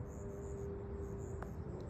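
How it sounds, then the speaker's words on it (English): Crickets chirping on a warm June night in a garden, a steady high trill running the whole time with a constant low hum beneath it and one brief faint tick. "crickets are chirping"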